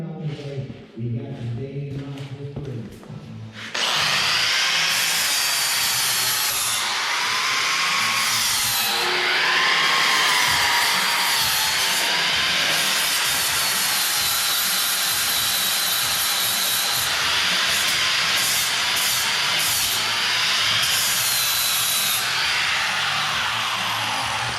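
A power tool grinds and cuts for a long steady stretch while trimming a spring on a 1955 Bel Air, loud and close after a few seconds of quieter clanking and handling sounds.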